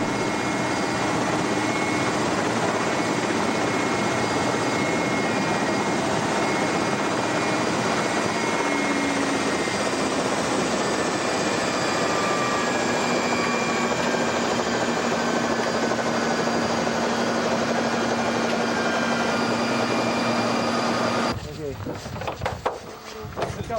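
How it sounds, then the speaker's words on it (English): Helicopter engine and rotors during a landing in snow in Kamchatka, Siberia, a loud steady drone with a constant whine that cuts off near the end into rough handling noise. "the helicopter will set flat when he lets the weight off"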